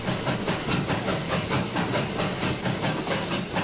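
A steam train in the Century of Steam video game chugs along with a steady, rhythmic hissing beat, loud and continuous with no talking.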